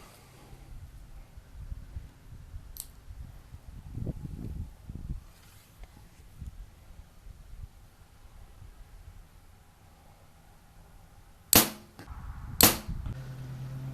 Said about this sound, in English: we are going to shoot these side by side with that mark centered and make sure they're hitting together